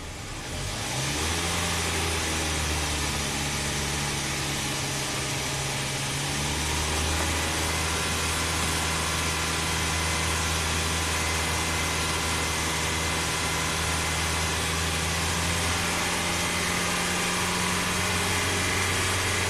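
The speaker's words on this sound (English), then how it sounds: "I'm just slightly raising the RPM." Hyundai car engine idling with the revs raised slightly, a steady, close mechanical hum with stable low drone tones that shift in pitch partway through, loud and continuous without voices.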